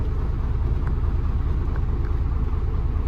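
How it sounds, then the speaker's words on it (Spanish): A car idles just after being started on a rainy morning in Villavicencio, a steady low engine rumble that holds evenly throughout with no talk. "Acabamos de prender el carro,"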